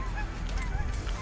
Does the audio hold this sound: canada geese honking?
yes